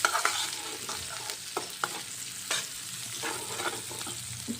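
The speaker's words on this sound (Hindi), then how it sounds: "लहसुन प्याज अदरक जीरा और साबुत धनिया डाल दिया इसमें" Garlic, onion, ginger, cumin and whole coriander sizzle in a hot tadka for greens, steady frying crackle close by with occasional stirring clinks, no voices.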